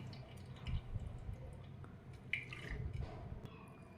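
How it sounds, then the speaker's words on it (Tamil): Boiled banana flower squeezed firmly by hand to press out its water, giving faint wet squishing and dripping over a few seconds, close and quiet with no talking. "அதை இப்படி கையாலேயே நல்லா புழிஞ்சு எடுத்துக்கலாம்."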